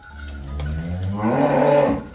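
A cow on a dairy farm selling cows and buffalo lets out one long, loud, close moo that rises and swells before fading.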